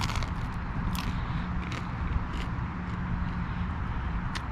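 Close, crunchy bites into a pizza crust during a street walk along Belmont Avenue in Youngstown. Several sharp crackling crunches sound over a steady, noisy outdoor background, with no talking.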